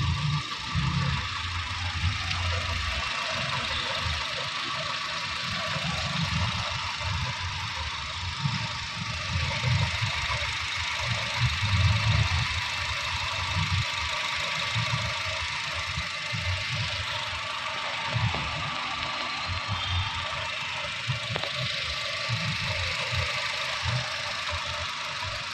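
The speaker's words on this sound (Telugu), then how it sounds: "गाड़ी स्टार्टिंग में देखिए, वेरी सॉलिड." A 2006 Honda City ZX idles after starting, a steady low engine rumble with faint irregular knocking and a constant high hiss, heard close up and without talk.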